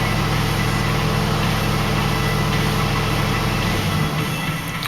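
A Chevrolet Silverado with a bad fuel pump idles roughly at start-up, its engine running as a steady, loud, low rumble with uneven vibration that loosens near the end.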